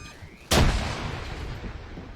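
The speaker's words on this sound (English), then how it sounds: "Back up, grenade." A grenade goes off in the Arma 3 military game with a sudden loud close blast, and a long rumbling decay trails after the sharp onset.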